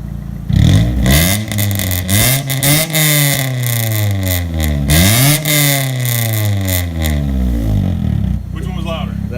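A 2000 Honda Civic EX VTEC engine revs repeatedly near the exhaust, with rising and falling pitch sweeps, a loud throaty tone and sustained roar.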